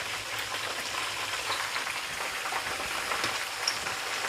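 Chicken wings frying in a pan, a dense, steady crackling sizzle with scattered pops, close and continuous, with no one speaking.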